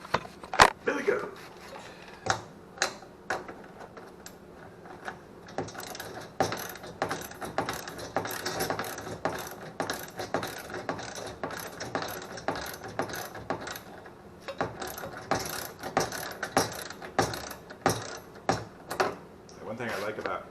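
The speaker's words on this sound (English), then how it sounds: "I got this ratchet, Craftsman ratchet at a garage sale along with another one" A Craftsman ratchet clicks in quick, close, regular bursts of sharp pawl ticks that repeat steadily throughout, with brief talk at times.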